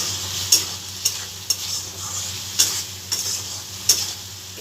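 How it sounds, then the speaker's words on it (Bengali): Ginger frying in a pan, a steady soft sizzle broken by several sharp scrapes and clinks of a spoon stirring, close and fairly quiet, no talking. "আবার একটু নেড়ে দিলাম।"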